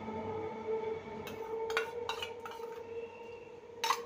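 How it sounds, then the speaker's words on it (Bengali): A spoon stirs palm pulp mixed with milk in a bowl for palm pakon pithe, producing a few sharp clinks and scrapes against the bowl over a quiet, low hum, with no talking. "ভালো করে নেড়ে নেব।"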